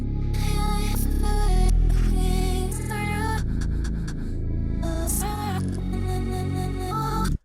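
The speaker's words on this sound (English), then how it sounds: "Glitched vocals sounds like this." Vocal run through a stuttering glitch effect with reverse stutters, choppy chopped syllables and abrupt cuts over a dense electronic music bed, loud and continuous for several seconds.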